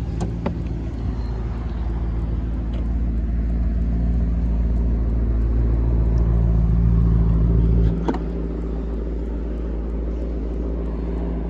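A deep, loud engine rumble from a Maserati GranTurismo S exhaust with its valves open holds steady, then drops abruptly to a lower idle drone partway through, with no talking.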